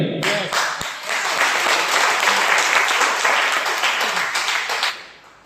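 A large audience applauds at a motivational talk, dense continuous clapping that swells quickly and holds loud and steady before tapering off at the end.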